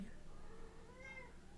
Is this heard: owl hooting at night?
no